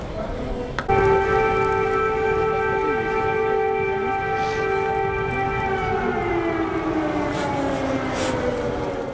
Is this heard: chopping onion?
no